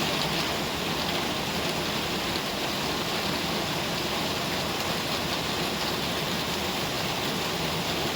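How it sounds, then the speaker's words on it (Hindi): Heavy, steady rain pours down continuously, a dense even roar with no pauses and no voices. "यार बारिश ने तो अपना आतंक ही जमा रखा है।"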